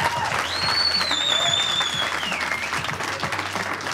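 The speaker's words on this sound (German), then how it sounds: "Also nochmals Applaus." Studio audience applause fills the room at a German music TV show for a rapper, dense steady clapping with crowd noise and a few whistles, no talking over it.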